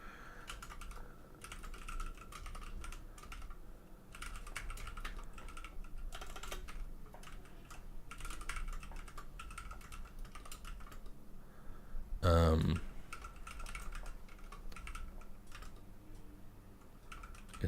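Steady, fast clicking of keys on a computer keyboard while writing code, close and continuous for the whole stretch, with one brief louder knock partway through.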